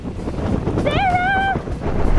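Wind buffets a microphone, making a continuous low rumbling roar. A short, wavering voice-like tone rises briefly in the middle.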